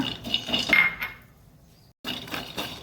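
Peanuts clatter and rattle briefly in a dry pan, close by, then go quiet for a moment before the scraping and rattling resumes.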